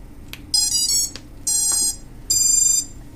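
Quadcopter electronic speed controllers beep on power-up after being replaced: three bright, sustained electronic tone bursts, each about half a second long, separated by short gaps, loud and close with no talking.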